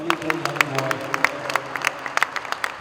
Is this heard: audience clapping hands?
yes